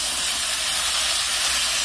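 Fried rice stir-fried in a hot pan gives a steady, dense sizzling hiss that holds evenly throughout, with no voices.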